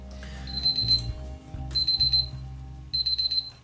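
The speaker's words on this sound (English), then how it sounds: "The timer's been done for like 55 seconds." A timer alarm goes off in three bursts of rapid high electronic beeps, loud and close, each burst separated by a short pause, with a low hum running underneath.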